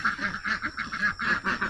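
Ducks quack repeatedly in a homestead pen, a steady run of loud, close, nasal calls filling the whole moment with no speech.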